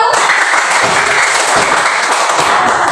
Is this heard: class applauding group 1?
yes